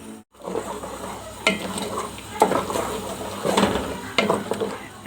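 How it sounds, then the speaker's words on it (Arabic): Blended tomatoes hit frying onions in a pan, making a close sizzle and bubbling with intermittent scraping stirs and soft utensil knocks. "هنزل بقى ب3 طماطمات انا ضرباهم في الخلاط."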